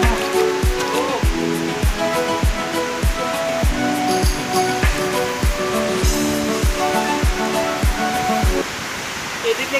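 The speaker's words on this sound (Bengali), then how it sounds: "শব্দ শুনতে পারছি মন বলছে আশেপাশে ঝর্ণাটা রয়েছে" A waterfall in the Kakoijana reserved forest hills: a broad, steady rushing roar with evenly spaced soft thumps running through it, which stop near the end.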